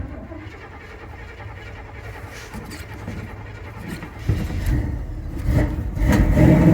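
A 1983 Chevy Scottsdale C10 half-ton squarebody pickup engine catching and revving as gas is fed, a low rumble that swells louder toward the end, close by with no talk.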